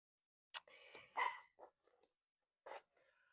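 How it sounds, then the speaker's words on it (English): A dog barks a few times at a distance outdoors during a yoga session, sharp separate yaps with gaps and some breathy sounds between, otherwise quiet. "You may hear London in the background barking."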